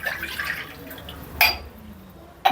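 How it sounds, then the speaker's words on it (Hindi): Water is poured into a wok to cook rice in a home kitchen, making a gurgling splash that fades out, followed by a sharp clink of a glass. "तो इसलिए मैं 2 गिलास पानी डालूँगी।"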